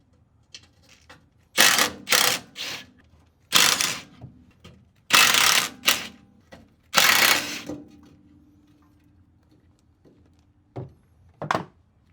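A ratchet cranks on the lower shock bolts of a Toyota Stout, clicking in several loud bursts of rapid pawl clatter separated by short pauses, close up, with a couple of brief clicks near the end.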